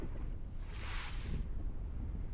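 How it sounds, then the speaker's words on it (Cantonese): Strong wind at a rocky seaside fishing spot at Miu Wan roars and buffets the microphone. It brings a steady low rumble with a brief hissy gust in the middle, and no voices. "今日風有啲大"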